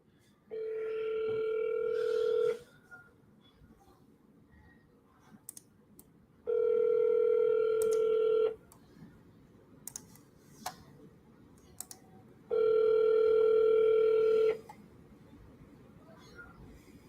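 A telephone call rings out on the line: three long, steady ringback tones of about two seconds each, evenly spaced with quiet gaps and faint background hiss between them, with no talking.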